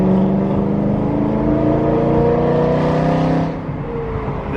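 A BMW E92 M3 engine droning steadily while driving, a loud, close, smooth hum that eases off near the end, with no talking.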